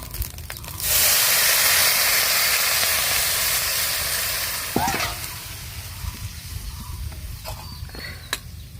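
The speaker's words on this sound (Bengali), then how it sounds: "হয়ে গেছে ভাজা এখন হচ্ছে আমি পানি দিয়ে দিচ্ছি" Water poured into frying food in a pan bursts into a loud, sudden hiss that slowly fades, followed by quieter sizzling and a few sharp clicks and scrapes of stirring nearby.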